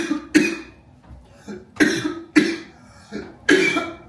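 A series of harsh, close coughs in an irregular rhythm, about five bursts with brief pauses between them.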